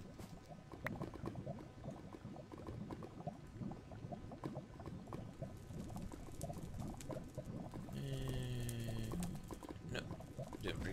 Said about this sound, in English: I got 2 redstone engines pumping, pumping either the empty cells or the lava cells.